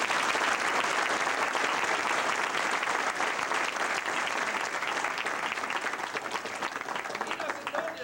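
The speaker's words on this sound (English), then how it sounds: "Give him a round of applause" Loud, sustained applause from a seminar audience at a martial arts demonstration, thick clapping throughout with crowd murmur and voices talking beneath it, easing slightly toward the end.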